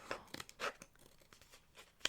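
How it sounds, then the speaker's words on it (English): Scissors cutting open a package in a quiet room: a handful of soft, crisp snips and crinkles, close and hushed, with irregular spacing. "I brought scissors so I can cut it open"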